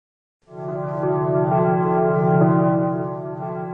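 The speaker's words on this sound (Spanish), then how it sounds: "inicia con campanas como de iglesia" Ringing church-like bells swell in after a brief silence, sustained and resonant, layered into a slow, droning music texture.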